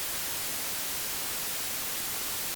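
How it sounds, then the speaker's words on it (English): Steady, even hiss of white noise, played for testing an Electro-Harmonix Big Muff Pi tone stack, fills the whole clip at constant loudness, then cuts off abruptly at the end. "So at the moment, I'm playing white noise,"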